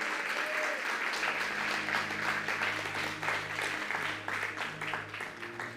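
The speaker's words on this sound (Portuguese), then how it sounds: "Pode aplaudir ao Senhor." Steady applause from a large church congregation, sustained and fairly distant, with a faint musical hum underneath.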